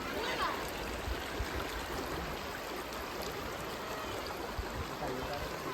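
A river in the Athirappilly forest runs with a steady, soft rushing wash of water, faint and even throughout with no voices.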